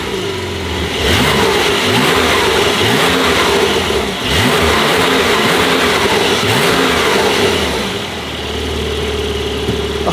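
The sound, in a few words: Porsche 992 Turbo S revving with titanium Ryft exhaust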